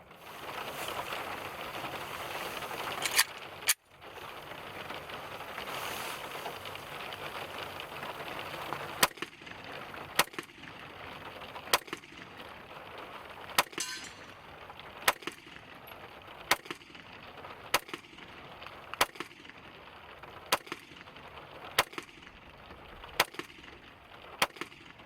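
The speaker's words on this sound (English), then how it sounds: "let's go over the pistol range and put a few rounds through this gun" A Smith & Wesson SD9VE pistol fitted with an aftermarket guide rod and spring fires single rounds on an outdoor range, about a dozen sharp loud cracks at steady intervals over a faint background hiss.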